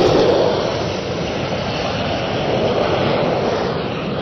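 An Indian Air Force fighter jet makes a low pass over the Lucknow-Agra expressway, its engine roar a loud, steady, broadband rush that stays constant throughout without any talk.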